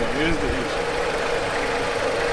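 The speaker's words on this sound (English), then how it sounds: "Let me show you the doggone engine." A 2.4-liter four-cylinder Jeep Compass engine idles with a steady, even hum up close under the open hood while someone speaks over it.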